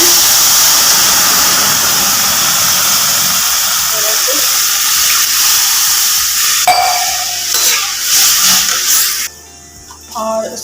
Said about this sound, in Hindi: तो मैं इसमें पानी ऐड करूँगी।